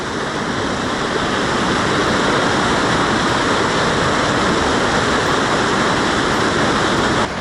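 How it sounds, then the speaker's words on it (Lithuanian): A waterfall in the Bühlertal area roars loudly and steadily close by, a dense unbroken rush of falling water with no talk and no pauses. "Pažiūrėkite prieš tokį krioklį."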